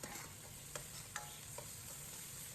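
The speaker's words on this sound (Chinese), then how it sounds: "继续翻炒扒拉1-2下" Chopped chili sauce tossed briefly in a hot wok, a continuous soft sizzle broken by a few sharp spatula scrapes and taps, close and without talk.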